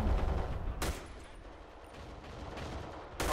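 Bursts of rapid gunfire in the FPS game Black Squad, one at the start, a sharp shot partway in and another at the end, over a low rumbling background.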